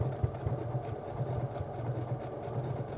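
A sewing machine stitches along the outside of a pocket on a boho purse, a steady mid-low motor hum with a faint rhythmic needle pulse running continuously and fairly close.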